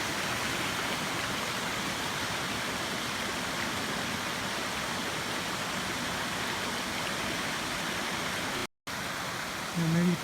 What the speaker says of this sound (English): And a little bit of a rapid right here.